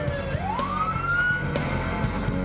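A police or emergency vehicle siren wails loudly, rising steadily in pitch as a single long sweep over the low rumble of engines and traffic in Los Angeles.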